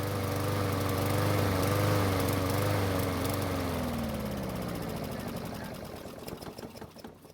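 A small gasoline lawn mower engine running under load, a loud steady buzzing drone that gradually winds down and fades near the end.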